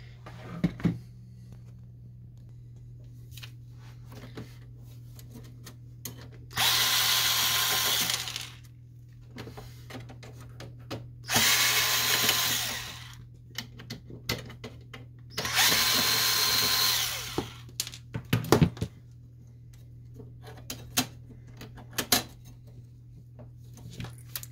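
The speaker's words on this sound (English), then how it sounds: "So there's four screws that hold that part, and since we're here, let's remove this screw also." Power screwdriver backing screws out of a Lexmark Pro915 printer during disassembly, three sustained whirring bursts of a few seconds each close by, separated by quieter clicks and handling noises over a steady low hum.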